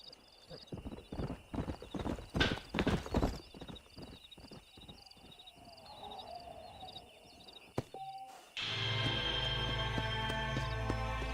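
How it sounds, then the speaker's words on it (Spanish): Hooves of a Kentucky Saddler horse clop along at a quick, steady pace in a Red Dead Redemption game, loud and close, followed by a brief whinny, with music starting near the end. "Domaste a Salen de Kentucky, un caballo raro y ágil"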